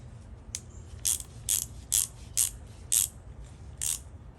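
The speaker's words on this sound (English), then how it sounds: "it seems to actually ratchet really well." A 1960s Indestro Select 6470 ratchet is worked in short, crisp bursts of clicking, about eight of them spaced roughly half a second apart. They sound close and clear over a quiet background, with no talk.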